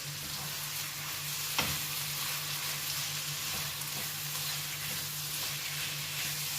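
Chicken and onion fry in a pan with a steady soft sizzle close by. Now and then a light clink or stir breaks through, and there is no talking.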